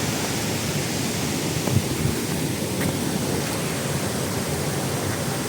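Water pours down the Dao Krajai waterfall beside a forest trail as a constant, loud, broadband rushing roar with no breaks.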